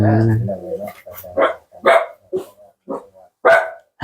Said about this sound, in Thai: วันนี้แปลกๆ มาเห่าบ้านน้องร้อยบ่อยเลย